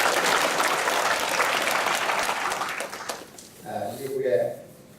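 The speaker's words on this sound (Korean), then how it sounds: "박수 한번 해주시기를" A church congregation applauds during a Sunday service, a full steady round of clapping that fades out after a few seconds, followed by someone speaking alone.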